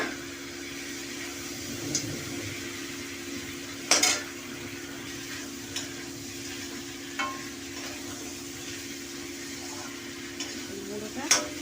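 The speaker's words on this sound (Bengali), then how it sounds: "গুঁড়োটা মশলার সঙ্গে ভালো করে কষিয়ে নেব।" Spice powder frying in hot oil with masala, stirred in a pan: a low steady sizzle with occasional scraping and clinks of the spoon against the pot, quiet throughout.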